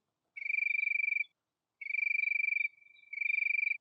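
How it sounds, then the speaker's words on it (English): Three bursts of shrill, rapidly pulsing cricket chirps, clear and alone against silence, with short pauses between them. "it's a sound of crickets"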